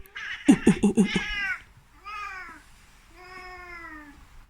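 A cat meows several times up close: a quick run of sharp chirping calls followed by two longer, drawn-out meows with gaps between them, while a person talks softly nearby.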